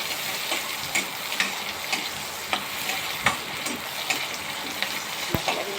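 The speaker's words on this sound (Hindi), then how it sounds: "प्याज को अच्छे से फ्राई कर लेते हैं" Two onions, cut into thick pieces, fry in oil in a pan with a steady crackling sizzle, punctuated by periodic clinks and scrapes from a stirring spoon, close and without speech.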